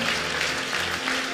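A church congregation claps together at a Sunday service, a steady dense wash of hand clapping that fills the whole moment at an even level.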